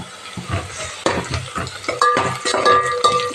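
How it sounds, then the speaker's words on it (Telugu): Two bay leaves frying in oil in a pan for bagara rice, a light sizzle broken by repeated scraping and clinking of a spoon against the pan, close, no speech. "ఇది కొద్దిగా ఫ్రై అవ్వాలి."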